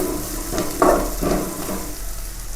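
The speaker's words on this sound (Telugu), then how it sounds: "ఇప్పుడు ఇవి మంచిగా ఫ్రై అవుతున్నాయి." Bitter gourd pieces frying in oil in a pan, seasoned with a pinch of turmeric, giving a close, steady sizzle with a couple of brief stirring scrapes and no talk.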